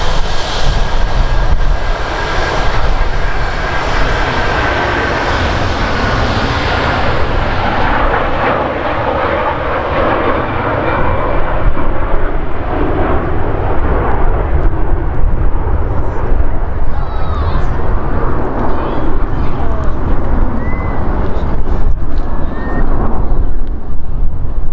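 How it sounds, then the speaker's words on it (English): A Turkish Airlines Airbus A330 takes off at Manchester Airport with a loud, sustained jet engine roar that fills the air, then slowly fades as the aircraft climbs away, with wind buffeting the microphone. "that's the neatest takeoff I've seen from Turkish Airlines"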